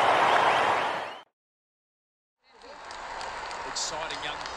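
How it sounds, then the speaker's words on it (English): Crowd applause rises at an Australian football match, a broad wash of clapping that cuts off into a short silence, then returns more softly at a distance. "A round of applause coming here from the crowd"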